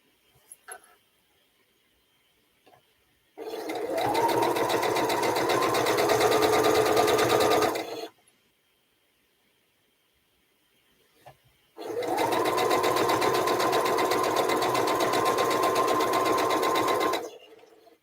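A sewing machine runs in two long steady bursts of several seconds each, stitching three-strip quilt sashing, loud and close, with a short pause between runs and faint clicks around them.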